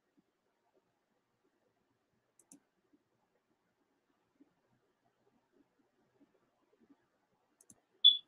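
Sparse, quiet clicks of a computer mouse in an otherwise silent room, a few soft single taps spread out over several seconds and ending with one sharper, louder click.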